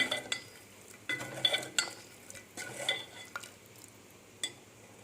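Salt being stirred into puli kaachal as it cooks, heard as a utensil making soft scraping strokes and light clinks in a pan over a faint sizzle, close and quiet.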